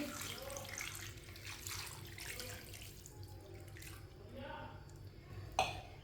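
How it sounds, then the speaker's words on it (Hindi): Water is poured from a glass into a kadai of chicken, a soft continuous splashing and trickling close by that ends with a small clink, while someone talks over it. "एक गिलास पानी डाल लेंगे।"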